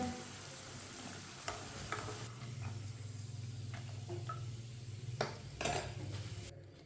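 Aloo palak pakoras fry steadily in hot oil with a low, continuous sizzle, joined by a few clinks and scrapes from a utensil or strainer near the end; no voices.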